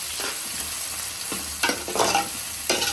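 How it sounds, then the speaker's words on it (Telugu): Finely chopped onions, added after fenugreek seeds, frying in hot oil with a constant sizzling hiss and three or four louder bursts as they are stirred, close and without speech. "సన్నగా తరిగిన ఉల్లిపాయలు బాగా ఎర్రగా గోల్డెన్ కలర్లో వచ్చిన దాకా వేపుకోవాలి."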